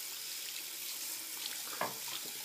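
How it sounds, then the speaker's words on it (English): Water runs steadily from a tap while a Katadyn microfilter element is scrubbed with a pad under the stream, a constant hiss with a brief soft scrape, no voices. "You're going to keep rotating and scrubbing, rotating and scrubbing. No soap, no bleach, just water in the pad."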